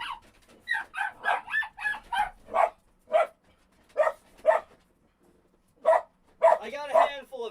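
Several dogs in a home bark and yip in repeated short bursts at close range, mixed with someone speaking to them in a soothing voice.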